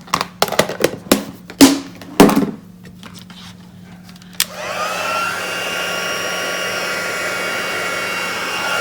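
After a few clattering knocks and taps, a heat tool switches on to melt white embossing powder on a card, blowing a steady, close, loud rushing hum that continues alone to the end.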